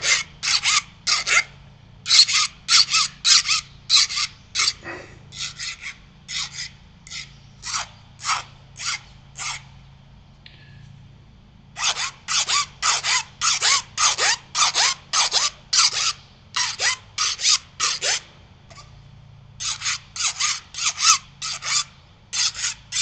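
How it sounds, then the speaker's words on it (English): Rhythmic rasping strokes from filing or scraping a burr off a carbon fiber leadout part, coming in quick bursts of repeated close strokes separated by short pauses, steady and fairly loud with no talking. "Okay, so I got the burr off the outside of it."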